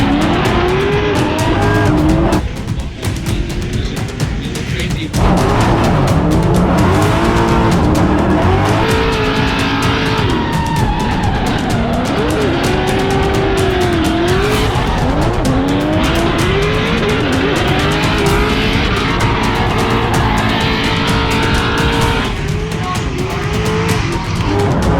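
Drift cars battling in competition, one a 2JZ-engined BMW E92, with engines roaring continuously alongside loud, sustained tire squeal and skidding throughout, close and intense.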